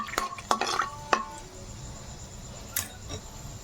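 Onions and cardamom fry in a pan for a Hyderabadi green chicken curry as a spoon clinks and scrapes against the metal in a few quick knocks over a soft, steady sizzle, close and fairly quiet.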